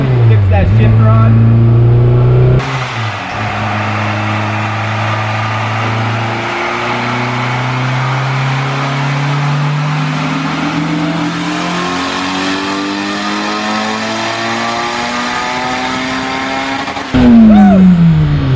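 A car pulls away hard on a drive, engine revving loud and climbing through gears with a clear break between shifts, up close. Voices are heard over the engine.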